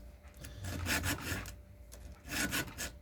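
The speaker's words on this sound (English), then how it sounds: "Right now we're sharpening a Husqvarna 120." Hand file rasping across the teeth of a Husqvarna 120 chainsaw chain, two bursts of rhythmic back-and-forth scraping strokes with a short pause between, close and fairly loud, no talking.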